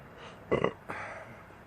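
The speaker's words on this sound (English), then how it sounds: "I love to burp." A single short burp from a man sounds close and fairly quiet, followed by a smaller second release of air, with no talking during it.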